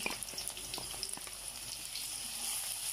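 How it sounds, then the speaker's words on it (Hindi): Onion with garlic ginger paste fries in oil in a kadai, giving a soft, steady sizzle with faint crackles and scattered small stirring taps, no voices. "1 मिनट भूनने के बाद मैंने इसमें लहसुन अदरक का पेस्ट डाल दिया।"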